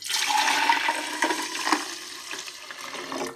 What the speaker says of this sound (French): Maintenant, on va mettre 1 litre déjà de vin.